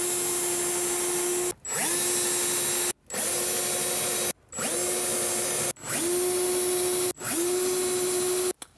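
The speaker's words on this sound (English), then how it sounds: "And then put your pilot holes in place." A power drill bores pilot holes for the runner of an ECF Innostor Plus soft-close larder unit: several loud, whirring bursts, each cut off abruptly and then spun back up, close by with no talk.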